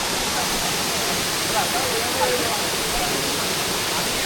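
A hill waterfall in Rangamati roars as a steady, broadband rush, loud and close, with only slight swells in level across the short stretch.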